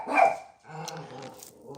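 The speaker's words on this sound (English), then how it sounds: "hush, my guard dog." A guard dog gives a single loud, sharp bark close by, followed by quieter muffled sounds and faint background noise.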